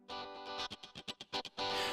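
Distorted electric guitar voice on a Korg Pa4X arranger keyboard with a distortion insert effect, playing a loud sustained chord, then a series of short choppy stabs, and ending on another held chord, with no talking.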